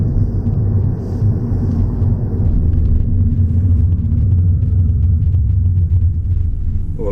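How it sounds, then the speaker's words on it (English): A MINI Electric car slows under full regenerative braking to a standstill, giving a steady, loud low rumble of road and drivetrain noise from inside the cabin that fades gently toward the end. "full regen braking there. Didn't use the brake pedal at all to come to a standstill"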